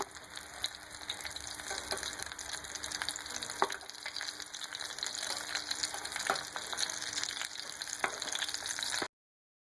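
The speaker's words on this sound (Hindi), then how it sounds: "देखिए फ्राई हो रहे हैं" Green chillies stuffed with spiced gram flour sizzling in hot oil on low-medium heat, a steady close crackle with occasional sharper pops and brief stirring clicks, no talk.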